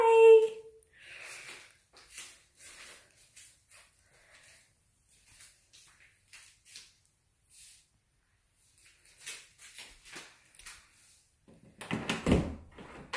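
A closet door is opened, starting with a short creak and followed by scattered faint knocks and rustles, then a louder scraping burst near the end.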